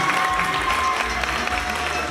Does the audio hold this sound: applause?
yes